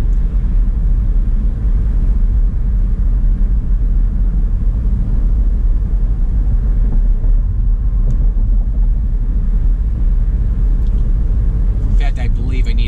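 A car drives along the M-53 freeway. Steady, loud low road rumble and tire roar run throughout with no break, and a faint rattle comes near the end.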